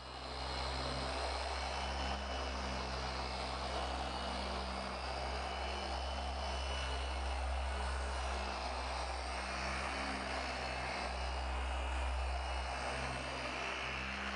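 A Porter Cable 7424XP dual-action polisher runs on the paint of a 2016 BMW i8 during detailing, a steady loud mechanical drone with a low hum and faint pitch shifts, continuous and without talk.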